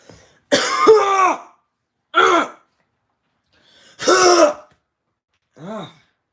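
A person nearby clears their throat and coughs repeatedly, four separate harsh bursts spaced by pauses, the last one softer.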